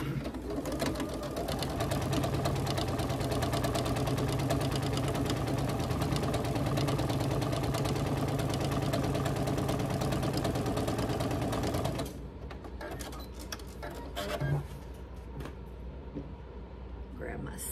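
A sewing machine stitching quilt squares at a quarter-inch seam runs in one long, steady, close whir for about twelve seconds, then stops, leaving quieter room sound with a faint knock.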